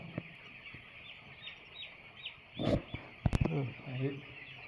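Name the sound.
chicks clucking in brooder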